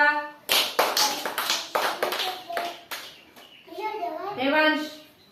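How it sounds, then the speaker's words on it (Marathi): Children in an anganwadi class clap their hands in a burst of sharp, quick claps, fairly close, followed by children's voices chattering. "टाळ्या वाजवा।"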